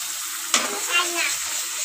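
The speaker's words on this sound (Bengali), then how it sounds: "খুব ফুটতেছে তেলের ভিতরে, যে কারণে একটু পানি দিয়ে দিলাম" Turmeric, chili powder and ground coriander-cumin spices with a splash of water sizzling in hot oil for papaya curry, a sharp hiss bursting in then settling into a steady crackle.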